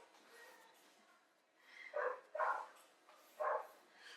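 Somewhere next door, a neighbour's dog lets out three muffled barks, two close together and a third after a short pause, fairly faint and distant over a low background hiss.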